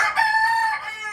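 A pet rooster kept in a cage crows close by in a single loud, drawn-out call with a clear tone, heard alone.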